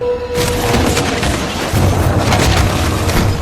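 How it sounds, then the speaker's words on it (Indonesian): A gunshot in a film scene as a man fires at a psychopath: a loud, dense boom that fills the whole clip, with roaring noise sustained for about three seconds and no speech. "Ia pun menembak psikopat itu."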